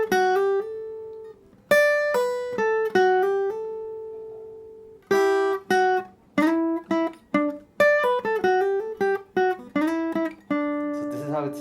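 Clean electric guitar playing a lead line of quick plucked notes with hammered-on runs and sustained slides, alone and close, pausing briefly between phrases.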